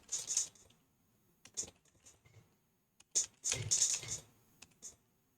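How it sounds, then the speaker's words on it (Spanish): A text editor plays typewriter-style clacks as someone types, producing irregular bursts of sharp clicks in clusters with gaps between them, close and moderately loud, with no voices. "Hace el ruido de una máquina de escribir"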